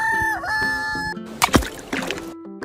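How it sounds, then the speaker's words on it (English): A rooster gives a single long, loud crow up close, followed by a brief splash-like burst and a few softer clucks. "Cock."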